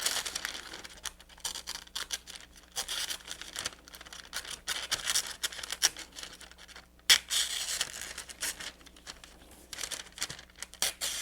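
Scissors or a sharp blade cutting out both sides of a paper rooster and chicken craft, giving close, dry crinkling and scratchy snipping that runs steadily with a sharper crunch midway.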